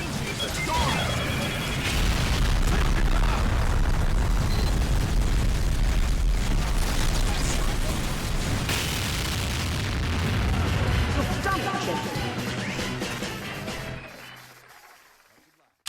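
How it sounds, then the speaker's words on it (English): A massive nuke explosion in Team Fortress 2 Mann vs Machine roars into a long, loud rumbling blast with crashing debris, sustained for several seconds before fading to silence. "the buster explodes in a massive nuke explosion covering the entire map."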